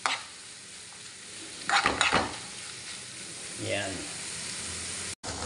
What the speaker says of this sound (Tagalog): medyo dampian lang natin ng konting mantika yung carrots tsaka yung green peas mga boss chief